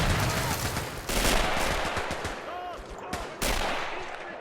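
Machine gun fire in the World War II game Men of War: Assault, sounding as dense, continuous bursts of gunfire among battle noise, with sharp loud cracks at several points.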